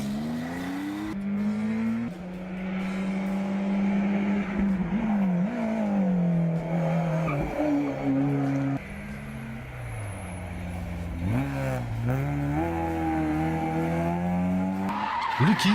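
A Lancia Delta Integrale historic rally car on a special stage near Girona roars through gear changes, engine note rising and falling with tire skids and squeals, loud and close throughout.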